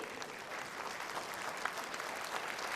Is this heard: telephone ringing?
no